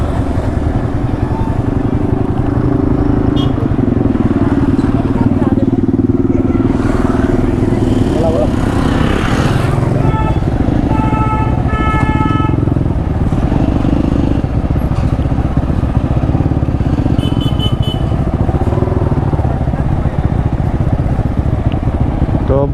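Motorcycle ride through a crowded Sangken festival in Arunachal Pradesh, with a steady engine drone running throughout, people talking nearby, and clattering and scattered crowd noise around it.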